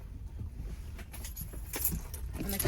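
Keys jangling briefly as they are set down in the back of a van, light metallic clinks close by over low background noise.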